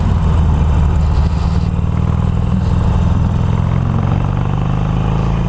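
A Harley-Davidson Iron 883 motorcycle with a modified exhaust runs loud and close, its deep engine rumble held high and steady throughout with mechanical clatter on top.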